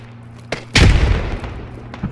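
Grenade explosion in the video game Squad: a small thump, then a loud, full-band blast with a long rumbling decay that fades into a few faint later thuds, with no talk over it.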